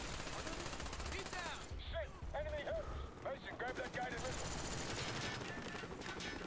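Mac-10 submachine gun in Call of Duty: Black Ops fires in sustained rapid bursts, loud and close, with several brief gaps and a voice talking over the shooting.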